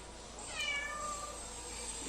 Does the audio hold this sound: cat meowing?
yes